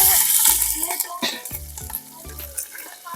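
Green chilies, cumin and spices frying in hot oil in a pan, with a steady close sizzle and the scrape and clink of a spoon stirring them now and then.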